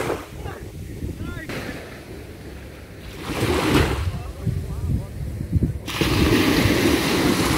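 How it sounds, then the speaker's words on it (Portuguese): Surf washes ashore at Meaípe beach in Brazil, a continuous rolling wash heavily buffeted by wind on the microphone, swelling louder toward the end. "Essa daqui é a praia de Meiaípe."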